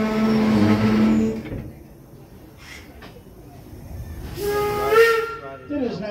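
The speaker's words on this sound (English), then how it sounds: "Once the whistle sounds, that will mean the brakes are set" A steam train whistle at Greenfield Village sounds twice as the brakes are set, a tonal shriek with hissing steam around it, loud and fairly close, with a quieter hiss between.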